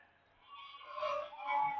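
Somewhere in the background a bird, sounding like a fowl or goose, lets out a faint honking call in a couple of short, wavering phrases, alone and distant.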